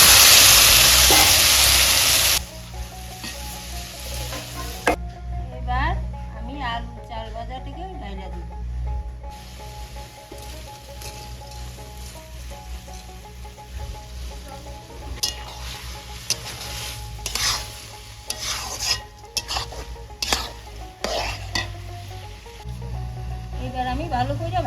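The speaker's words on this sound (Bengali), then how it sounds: "আমি ভালো করে ভাজে নেব, সব কিছু একসঙ্গে।" Chopped banana flower frying with onions in a pan in a village kitchen, a low steady sizzle with scraping and stirring sounds while someone talks over it.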